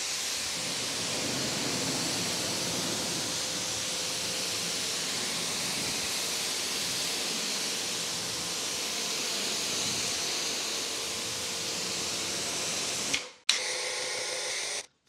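An AR675 pressure washer spraying water in a steady, loud, hissing rush that holds evenly for about thirteen seconds before cutting off abruptly, followed by a short burst of different noise.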